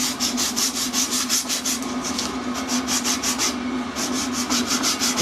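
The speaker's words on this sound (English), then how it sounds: "Just clean some of the rust of it." Steady abrasive rubbing clears rust from the machined face of a vintage cast saw table, with quick back-and-forth strokes in a close, even rhythm.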